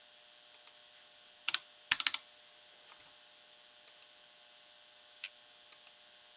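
Scattered keystrokes on a computer keyboard as a strong encryption password is entered during a Linux install, sparse clicks in small clusters with pauses between, close and clear with no voices.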